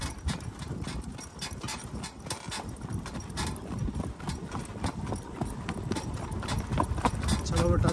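A young shod filly pulling a buggy clip-clops in a brisk, steady rhythm close by, while a voice urges her on over the hoofbeats.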